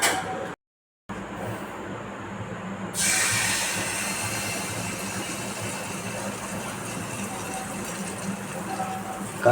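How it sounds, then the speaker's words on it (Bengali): Jackfruit malpua batter frying in white oil gives a steady, loud sizzling hiss that swells after a brief gap and carries on evenly to the end. "কাঁঠালের মালপোয়া হচ্ছে সাদা তেলে"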